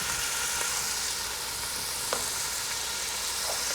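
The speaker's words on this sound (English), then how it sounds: "I'm going to add some hot pepper flakes" Steady, close sizzling and frying hiss from a pot of Italian-style chicken soup as hot pepper flakes go in, a continuous bright crackle with faint clicks and no voices.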